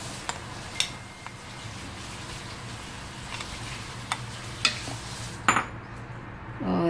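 Chickpeas, chopped tomato and onion being mixed in a bowl with a spoon for bread katori chaat, producing light intermittent clinks and scrapes over steady low background noise, without speech.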